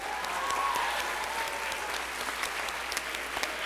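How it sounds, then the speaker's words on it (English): An audience at a high school spring orchestra concert applauds, a sustained, fairly even sheet of clapping from a crowd that thins slightly toward the end. "Can we have a round of applause for this guy, my best friend?"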